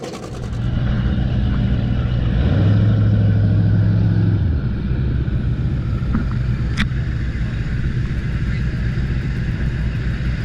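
A 46-foot Outer Limits powerboat with Mercury Racing 1075 engines runs on a poker run, its steady loud engine drone rising in pitch and then settling, with wind and water rush throughout.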